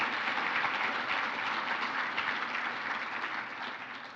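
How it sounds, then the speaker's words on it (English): An audience at a sustainability summit session applauds in a dense, steady wash of clapping that stays loud throughout and fades slightly at the end. "Let's give them a round of applause."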